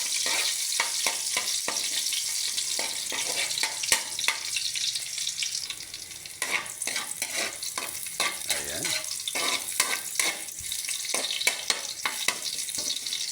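Chopped garlic sautéing in a kawali frying pan, a loud steady sizzle with frequent scraping stirs of a spatula throughout, close and without talk.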